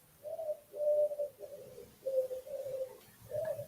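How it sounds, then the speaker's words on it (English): A pigeon coos in a rhythmic series of about five drawn-out, warbling phrases, each separated by short pauses, heard fairly close and clear with no other sounds around it. "you are hearing, or you were hearing, the pigeon"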